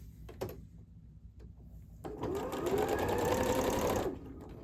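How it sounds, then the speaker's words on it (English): A sewing machine stitching a quilt block runs in a steady fast whir for about two seconds, preceded by a few soft clicks and handling noises, close up with no talking. "My sewing machine ate my corner."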